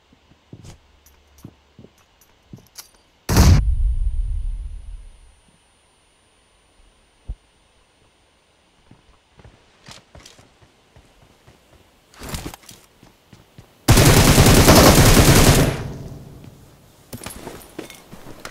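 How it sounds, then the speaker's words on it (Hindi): Gunshots in a mobile shooter game sound as scattered sharp cracks, with two heavy loud blasts and a longer roaring burst standing out against quiet background hum. "तो यहाँ मुझे और फायर शॉट्स की आवाज़ आ जाती है।"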